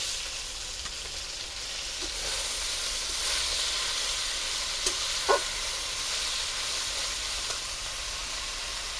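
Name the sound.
washed greens (shak) added to hot pan, sizzling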